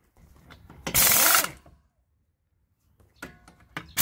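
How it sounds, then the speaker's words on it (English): A lug nut comes off a Toyota Tarago wheel with a loud burst of a power tool's rattling whirr lasting about half a second, followed by quieter clanks and mechanical clicks. "NASCAR style, take your lugs off."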